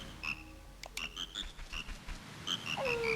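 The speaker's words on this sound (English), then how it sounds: "I wonder if that frog tune is meant to be referencing something." Frog tune in the video game Majora's Mask: short bright tonal notes in a sparse melodic pattern over a low rumbling background, ending with a sliding tone, moderately quiet.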